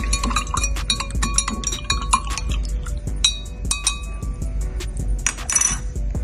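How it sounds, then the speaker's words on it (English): A spoon stirs Tower Garden mineral blend in water to dissolve it, making quick, steady metallic clinks against the container that run nearly continuously and close by, with no voices. "So let's stir it around."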